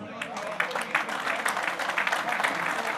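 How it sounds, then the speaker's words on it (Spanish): Audience applause at a Peruvian mayors' congress of the Asociación de Municipalidades del Perú, a dense, steady patter of clapping from a crowd with a voice mixed in. "lo recibimos con un fuerte aplauso"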